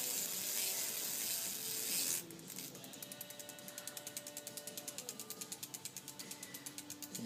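Ed Leedskalnin's magnetic flywheel is turned by hand, giving a soft hiss that gives way to a rapid, even train of ticking clicks repeating steadily for several seconds.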